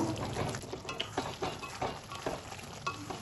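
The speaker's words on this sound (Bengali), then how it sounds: "আবার একটু নেড়ে দেবো" Pumpkin chokka gets stirred in a pan, a spatula scraping in a regular rhythm over a soft, continuous sizzle.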